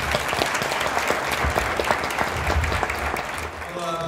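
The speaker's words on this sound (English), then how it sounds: "let's welcome him and give him a huge round of applause" Enthusiastic applause from a crowd welcoming a guest at a Long Beach school district event, dense continuous clapping throughout with a voice starting to talk near the end.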